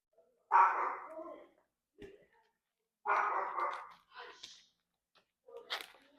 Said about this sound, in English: My dog gets super excited